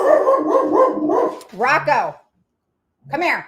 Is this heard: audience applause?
no